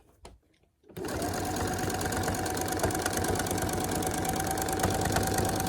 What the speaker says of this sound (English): I can go ahead and take my clip off and just stitch right along that headband